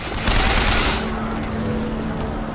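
Rapid bursts of gunfire from the video game Bioshock Infinite, a dense fusillade strongest near the start that carries on steadily at moderate loudness without pause.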